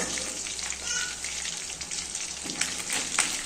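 Fish pieces sizzle and fry steadily in a pan while being stirred, a close, continuous crackle with soft scraping, and no one talking.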